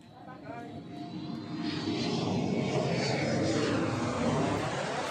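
An airplane engine roars steadily as the plane arrives in Paris, a broad loud drone that swells after the first second and holds under faint background voices.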